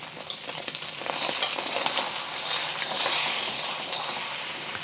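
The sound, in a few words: stir-frying eggs in a hot oiled wok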